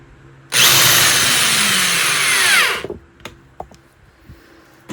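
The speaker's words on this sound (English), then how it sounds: "You just don't want to overuse a power drill like this" A power drill whirs loudly for about two seconds as it drives a screw into a pine guitar body, then stops, followed by a few light clicks and knocks.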